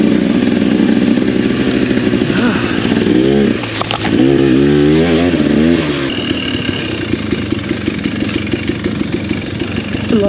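A dirt bike works along a singletrack trail in Shake Creek, Idaho, its engine buzzing loud and close throughout, with revs rising and falling as the rider throttles through the terrain.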